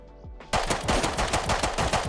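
Rapid bursts of automatic gunfire in the video game Rust rattle close and loud after a brief quiet moment, a fast repeating stream of shots.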